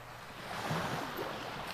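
Ocean waves wash in a steady, soft rush with a gentle swell in the middle, muffled by wind noise and with no voices.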